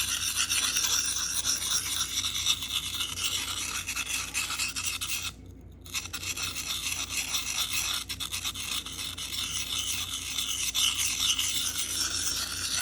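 A knife of S90V steel is worked steadily across sharpening stones, a continuous close-up rasping scrape that runs almost unbroken, with one short pause partway through before the grinding strokes resume.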